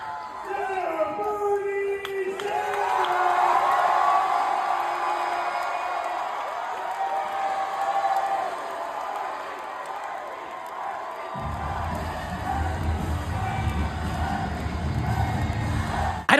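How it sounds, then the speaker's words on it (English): Huge crowd at a Bernie Sanders and Zohran rally roaring and cheering as he walks on stage, a loud sustained wall of whoops and shouts, with a deep rumble of stomping or applause joining near the end. "Just take a look at this crowd when Bernie walked on stage."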